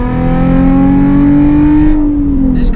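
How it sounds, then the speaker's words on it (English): A car with a loud modified exhaust revs hard, its engine note climbing steadily and holding a strong buzzing drone for about two seconds before dropping off sharply, close and loud with no talk. "This car is so much fun to drive now that I have made the exhaust a lot louder."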